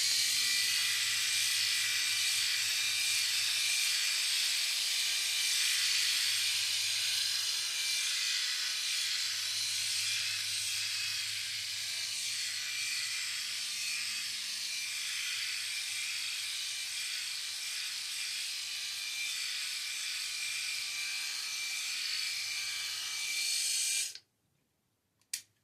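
Freebird Flex electric razor buzzing steadily and close for about 24 seconds with a high, even whine, then cutting off abruptly, followed by a brief handling click.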